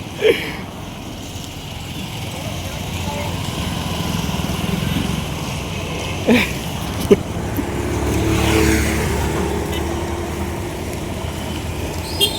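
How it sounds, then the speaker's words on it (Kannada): A vehicle arrives on a rainy outing near a Tibetan camp in Mundgod, with a steady engine drone that swells and fades, a few thuds and rattles, heard at moderate distance. "ಗಾಡಿ ಬಂದ"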